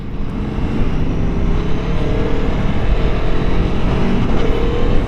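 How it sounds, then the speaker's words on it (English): A 2023 Aprilia Tuono V4 Factory's V4 engine runs steadily with a deep, continuous rumbling drone at even loudness, no speech over it. "Yeah, it's got that bottom end grunt. You can tell with that V4. Hear it? Boy, it sounds good."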